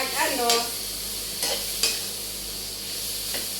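A spoon stirs sizzling food in a pan, with a few sharp scrapes and clatters over a continuous frying hiss, close up and without speech.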